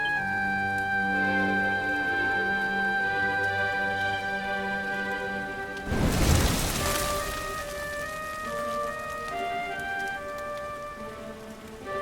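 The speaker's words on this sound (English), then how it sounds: "Looks like the rain's dying down." Rain falls in Dragon Quest XI S around Dundrasil: a continuous soft patter beneath sustained musical tones, broken midway by a sudden loud roaring burst that slowly fades.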